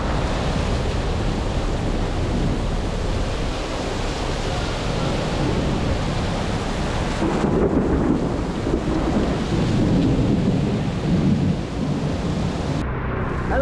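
Steady heavy rain pours during a storm in Bangkok, a dense continuous hiss with low thunder rumbling through it.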